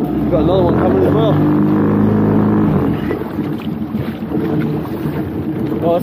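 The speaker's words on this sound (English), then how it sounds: "Gotta move the boat forward." Fishing boat on a longline trip motoring forward, a steady engine drone under wind buffeting on the microphone, with people talking over it throughout.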